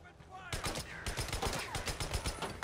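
Rapid bursts of enemy gunfire in the video game Days Gone, a dense run of sharp repeated shots after a brief quieter start, loud and close, with someone talking over the shooting.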